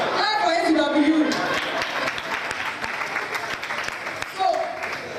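An audience claps at a school event, the applause rising after a voice finishes speaking and staying fairly steady to the end.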